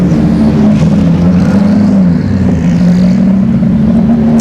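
A Honda Civic drag car, stripped of its front bumper and hood, roars loudly at a dragstrip test-and-tune session, its engine a steady, sustained drone with a slight waver in pitch throughout.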